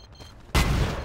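A single sharp, loud gunshot from the video game Battlefield 2 bursts out after a quiet moment and rings off with a short decaying tail.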